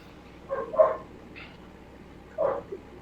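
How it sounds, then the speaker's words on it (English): A dog barks a few times at a distance, short separate woofs with a pause between them, fairly faint against a quiet background. "No, that's a dog, not a wounded elk."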